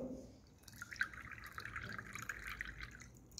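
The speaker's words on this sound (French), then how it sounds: "On va mettre de l'eau avec un peu de javel." Water mixed with a little bleach is poured, giving a faint, quiet trickle and light dripping over a few seconds.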